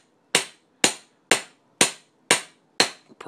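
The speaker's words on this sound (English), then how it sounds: "You have to because you're hammering nails in." Six sharp hammer blows drive nails into wood during a leprechaun trap build, each strike loud and close with a quick decay, evenly spaced about half a second apart.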